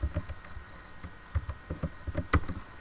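Fast, uneven taps of keys on a computer keyboard, close and clear, in a short burst of typing.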